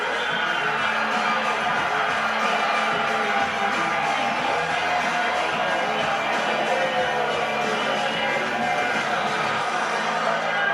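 Pro wrestling crowd in an arena roars and cheers continuously as a big wrestler knocks his opponent down, a dense wall of shouts and whoops, loud and steady with no break.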